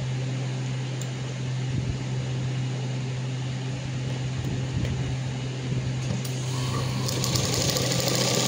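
A sewing machine stitching a short cotton-style frock runs in a steady, close, continuous whir with a low motor hum, unbroken for the whole stretch and with no talk over it.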